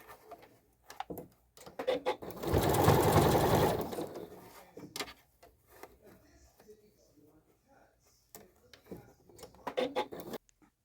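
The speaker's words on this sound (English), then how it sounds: "So it's fine that I'm just sewing this down without pulling it" A sewing machine stitches an elastic channel on a costume sleeve in one loud, close burst of a couple of seconds, set among softer handling sounds and clicks.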